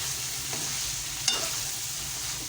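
Poppy seed paste cooking in a pan for chicken korma, a steady close sizzle with a couple of brief stirring scrapes, one sharper clink partway through.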